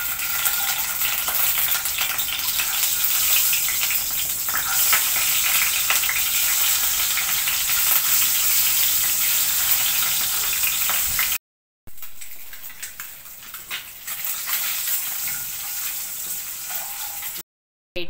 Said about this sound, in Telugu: ఆయిల్ హీట్ అయిన తర్వాత పసుపు యాడ్ చేసుకుని ఎగ్ ఫ్రై చేసుకోవడం వల్ల క్రిస్పీగా ఫ్రై అవుతాయి